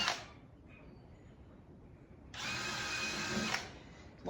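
A drill with a stepped-up bit bores pilot holes while plexiglass is replaced on a sliding-door shadow box. One steady, close whine lasts just over a second, set between quiet stretches.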